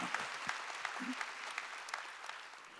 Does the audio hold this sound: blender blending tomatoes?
no